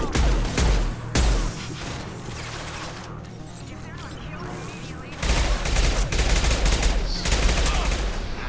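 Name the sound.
gunfire shooting Blue Suns enemies in a video game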